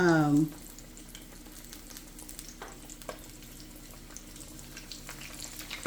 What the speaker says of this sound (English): fry the bigger pieces first because, you know, it takes the longest for them to cook